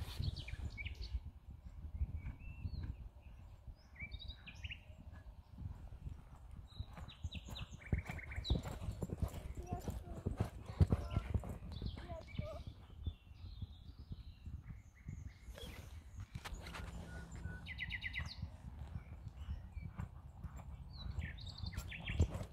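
Horse hooves clip-clopping during a horse race, a faint, steady patter of hoofbeats under outdoor ambience with occasional bird chirps in the background.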